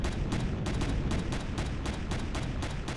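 Rapid railgun fire in the space survival game Empyrion Galactic Survival, a dense, loud stream of evenly spaced heavy shots over a constant low rumble, with no pauses.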